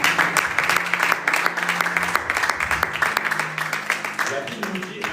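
Church congregation clapping and applauding in praise of God, a dense steady roar of many hands filling the hall, with voices calling out within it.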